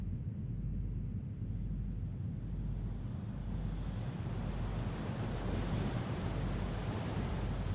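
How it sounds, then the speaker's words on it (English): Surf crashing continuously inside a sea cave on an island coast in the game Foolish Mortals, with wind howling over a steady, loud wash of waves and low rolling swells pulsing throughout. "Waves thrashing, wind howling"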